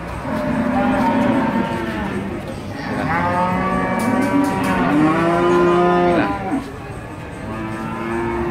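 Limousin cattle moo repeatedly at a livestock market, long deep calls one after another, loud and close, with background noise and no talking.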